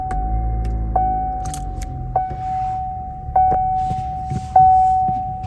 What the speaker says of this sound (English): My mom prefers having to put the key in and starting it like a normal car.